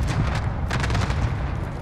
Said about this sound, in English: A little celebration fireworks there.